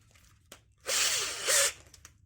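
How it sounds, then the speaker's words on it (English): A grinder mounted on a drill whirs up for about a second of harsh, buzzing grinding as it strips galvanizing from metal, then stops, with faint clicks before and after. "then I turn on the grinder and just run it along till it takes the galvanizing off"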